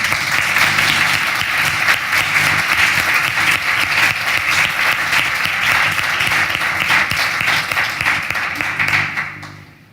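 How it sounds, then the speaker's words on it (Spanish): A crowd gives loud, steady applause at a book launch, dense clapping that runs unbroken for nearly the full ten seconds before tapering off at the end. "Les damos un aplauso."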